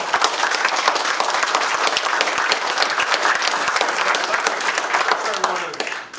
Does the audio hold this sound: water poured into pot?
no